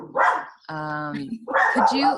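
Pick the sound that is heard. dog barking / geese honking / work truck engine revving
dog barking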